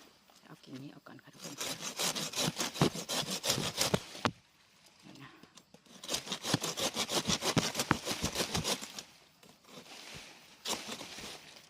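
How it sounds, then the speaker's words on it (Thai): Hand saw cutting through a garden tree branch, quick steady back-and-forth rasping strokes in two long bursts separated by brief pauses, close and clear. "ถ้าจะเลื่อยก็ต้องยึดให้แน่นค่ะ"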